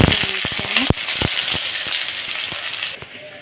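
Bay leaf and cumin seeds temper in hot oil for ghugni, a steady sizzle broken by sharp pops and crackles, close and fairly loud.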